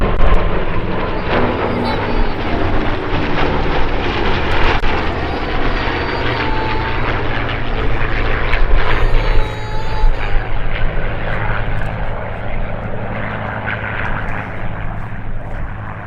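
Propeller aircraft of the Flying Bulls four-ship display roar past at the Sywell airshow in 2024, a loud, dense engine drone that swells and holds across the pass.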